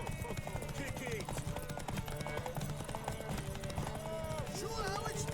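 Horse hooves clip-clop at a steady pace in the video game The Witcher 3: Wild Hunt, heard continuously under game music and spoken dialogue.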